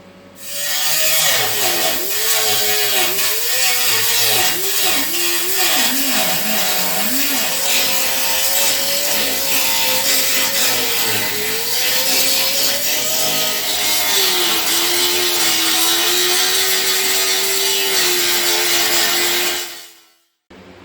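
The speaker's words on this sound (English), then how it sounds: "I'm going to grind them all up there now." An angle grinder grinds down welds on metal for about twenty seconds, a loud continuous abrasive whine whose pitch dips and wavers with pressure before settling and cutting off.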